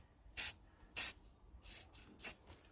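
Short bursts of spray paint hiss out in five quick blasts, laying down overspray, each puff soft and close with brief pauses between.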